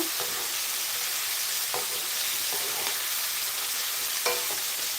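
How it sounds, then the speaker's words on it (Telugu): Okra pieces fry in a pan with a constant bright hiss of sizzling oil, broken now and then by soft scraping stir sounds. "రెండు బెండకాయలు అయితే చక్కగా వేయించున్నాను"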